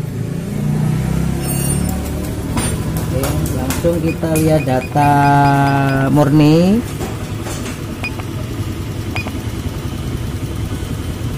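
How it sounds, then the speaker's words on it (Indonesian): Honda Beat Pop motorcycle that cuts out and sputters when the throttle is released, its engine running at idle with a steady low rumble under a man's speech, with clicks and brief tones partway through. "Langsung aja kita hidupkan mesin."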